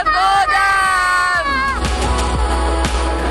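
An enthusiastic crowd at a Save Soil event in Delhi whoops and yells, loud and close, with high shouts fading into general cheering and hubbub.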